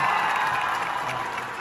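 A studio audience at the finale of the reality show Influence House 4 claps steadily and loudly throughout, with a dense, even wash of applause and light crowd noise.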